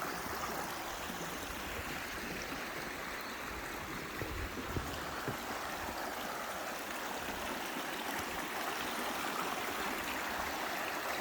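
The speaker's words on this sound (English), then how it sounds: "where the actual water is flowing the hardest" Creek water rushing continuously where a river sluice is run, a dense, steady wash of flowing water that stays loud and even throughout with no other sounds.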